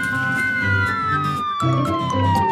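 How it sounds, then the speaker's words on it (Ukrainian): A police car siren from a children's cartoon wails in a loud, sliding tone that dips and repeats, heard up close over a background music loop with no talking. "поліцейська машина."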